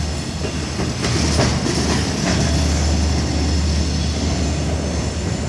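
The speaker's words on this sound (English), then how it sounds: "So it looks like an intermodal." An intermodal freight train rumbles past close by, a steady heavy roar with rhythmic wheel clatter and faint metallic squeal, loud and continuous throughout.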